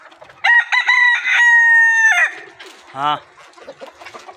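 Golden Misri hens on a poultry farm crow and cluck loudly up close, with a long drawn-out crow followed by shorter clucks and squawks, and a voice briefly speaking.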